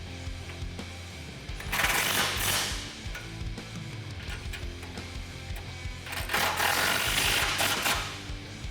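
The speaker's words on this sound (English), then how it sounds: "Once you have that done, we can tighten down all this hardware." Ratchet wrench cranking on 18mm tow hook and bumper hardware of a 2016-2018 Silverado 1500 off-road front bumper, with dense rapid clicking running steadily and swelling into two louder bursts, no talking.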